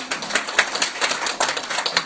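Audience in a lecture hall clapping for attendees from New York, a dense steady patter of many hands lasting a couple of seconds at moderate loudness.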